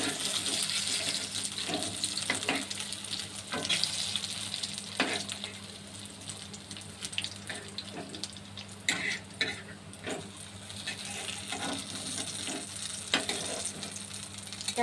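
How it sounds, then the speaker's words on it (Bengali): Stuffed pointed gourds (potol) fry in hot oil with a steady, fairly loud sizzle, broken by scattered clinks and splashes from turning and stirring, with no voices. "পুর ভরা পটল ভাজাগুলো হয়ে গেছে"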